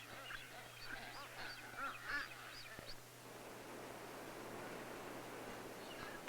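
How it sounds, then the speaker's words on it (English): Blue-footed boobies on the Galapagos give a run of honking, goose-like calls over the first half, then fade into an even background hiss. "the blue-footed booby"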